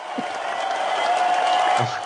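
Dense crowd applause and cheering plays as a sound effect on a podcast, sustained and fairly loud with a few whoops, while a voice speaks briefly at the start and near the end.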